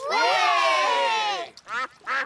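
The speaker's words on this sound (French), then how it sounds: "Et voilà les canards." Cartoonish duck quacks: a long, buzzy, stretched quack followed by two shorter quacks, loud and close.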